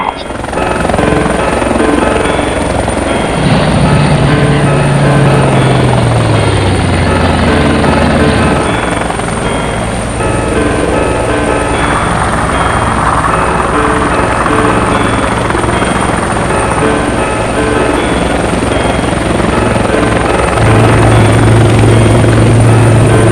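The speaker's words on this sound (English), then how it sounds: "Fast action, evil robot helicopter." A loud helicopter-like whir and rotor buzz of a toy evil robot helicopter runs continuously and up close, with voices talking over it at times.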